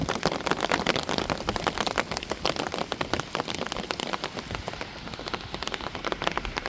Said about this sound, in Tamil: பாருங்கள் மழை ஊற்றுது.